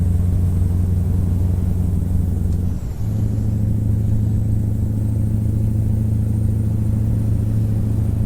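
A Mack Ultraliner truck engine in American Truck Simulator drones with a loud, steady low rumble, dipping briefly as if shifting gear before resuming its constant heavy hum, with no talk.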